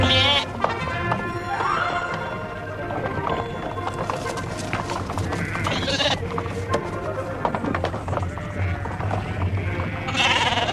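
Sheep bleat repeatedly in a dense, close flock, their wavering calls overlapping over a constant shuffle, with hoof clatter and voices mixed in.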